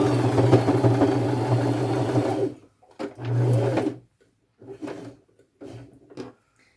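A sewing machine stitching fringe onto an upcycled boho bag, running in a couple of steady whirring bursts with short pauses between them, then a few brief softer runs.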